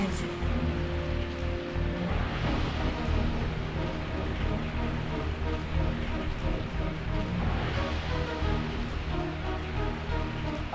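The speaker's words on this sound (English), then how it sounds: "I woke up to the sound of falling rain." Steady falling rain hisses as a continuous, even wash in Biohazard 3 Last Escape on PC, moderately quiet and unbroken throughout, with a faint low musical drone beneath.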